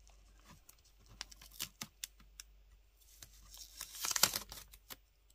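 Quiet, close crinkling and ripping of masking tape, a series of short tears and rustles building to a denser tearing burst near the end.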